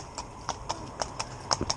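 The hooves of a small, previously abused horse in retraining clip-clop in an uneven rhythm of about eight light strikes, quiet and fairly close, with no voices.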